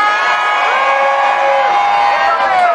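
A crowd at a pro-Gaza rally in Birmingham cheers and whoops loudly and continuously, many voices blending into a sustained roar with rising shouts.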